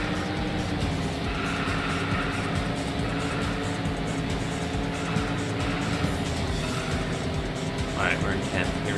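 Race car engine drone from a racing video game, a continuous loud roar with shifting tone throughout, a few brief squeals near the end.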